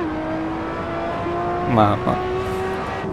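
Ferrari LaFerrari engine droning steadily in the Assetto Corsa racing game, a sustained tonal roar with a brief swell near the middle, while someone speaks a word over it.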